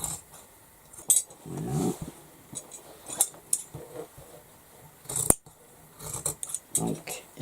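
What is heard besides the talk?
cutting patterned fabric along the side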